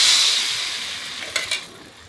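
Flour batter hits a very hot wok and hisses loudly at first, the sizzle gradually fading, with a few brief scraping or tapping sounds near the end.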